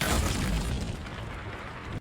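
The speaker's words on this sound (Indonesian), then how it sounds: "Ledakan kecil itu membuat Bol kehilangan satu matanya" A small explosion goes off from booby-trapped infrared goggles in a thriller drama, a loud, close, broad boom that decays over about two seconds and then cuts off.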